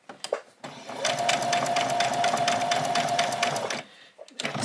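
A sewing machine stitches a doll's dress in one steady whirring run of close, rhythmic needle strokes lasting almost three seconds, with brief taps and a voice before and after.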